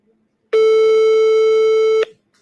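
A single steady electronic telephone tone sounds while a sales prospect is being called. It holds loud and unbroken for about one and a half seconds, then cuts off, with no talk over it.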